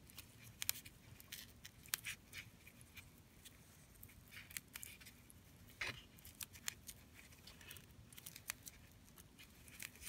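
Scissors trimming the edges of a wood photo transfer Christmas ornament, with quiet, irregular snips and small crinkly cuts close by, faint and with no talk.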